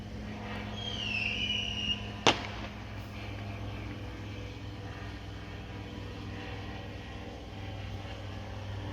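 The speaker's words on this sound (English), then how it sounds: "Firecrackers and airplanes all around out here." Outside, a single sharp firecracker pop cracks at a distance over a steady low rumble that fits passing airplanes. A brief high whistle comes earlier, and the drone continues to the end.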